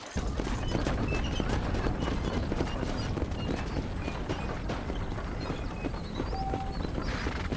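Horse hooves clip-clop steadily in the Red Dead Redemption video game, a dense, even rhythm of close, fairly loud hoofbeats that runs without a break, with a faint voice now and then.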